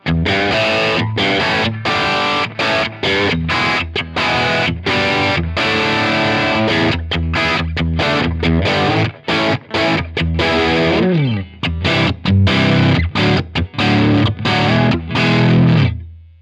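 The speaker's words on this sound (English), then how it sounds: "if we dime all the tone stack controls, we're flattening it out and also increasing the level that's sent subsequently to the power stage" An electric guitar plays through a Strymon Iridium amp modeler with every tone stack control turned fully up, giving a loud, full, driven tone in choppy strummed chords and sustained notes that ring for several seconds.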